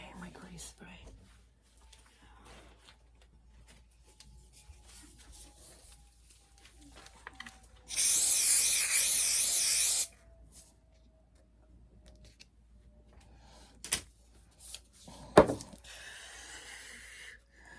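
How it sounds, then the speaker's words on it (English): A short, steady hiss of a glaze spray can spraying for about two seconds, set among quiet clicks and handling noises. "That's my glaze spray"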